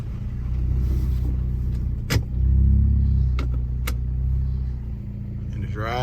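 A VW Tiguan with a swapped-in DQ250 DSG transmission rolls over a curb, a steady close engine rumble with a couple of sharp thuds and a brief surge as the wheels climb, while someone talks in the background.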